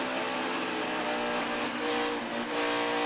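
A NASCAR Cup race car at Homestead-Miami Speedway drones steadily at a distance, its engine note easing off the throttle through a corner under a broad wash of track noise.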